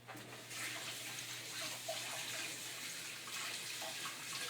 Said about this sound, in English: I just rinse my hands